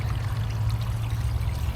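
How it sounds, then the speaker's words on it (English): Water pours steadily over the back of a koi pond filter screen, a constant close rushing splash with no break and no voices. "Right now I can already see the water is going over the back"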